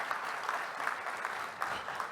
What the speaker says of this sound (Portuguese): pedir um reconhecimento público com uma salva de palmas ao senhor